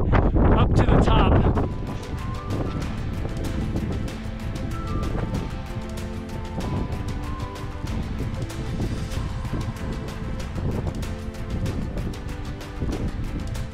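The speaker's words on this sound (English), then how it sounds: "Super windy up here." Strong wind buffets the microphone on a high Colorado mountain trail, a loud roar at the start that settles into steady, continuous gusting noise under faint background sounds.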